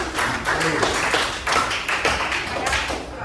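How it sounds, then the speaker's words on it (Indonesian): A small group in a learning-styles workshop claps for a participant, a close, uneven patter of individual hand claps in a loose rhythm, with no voices over it. "tepuk tangan untuk kakak"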